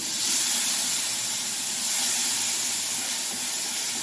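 Finely peeled and chopped potato sautéing in a pan, a loud, continuous hissing sizzle held steady throughout with no talking over it.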